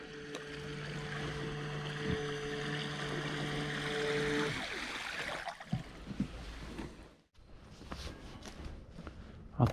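A carp-fishing bait boat's small motor whines steadily on the water for a few seconds before cutting out, leaving splashing and handling noises nearby.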